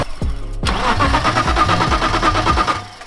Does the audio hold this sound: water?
no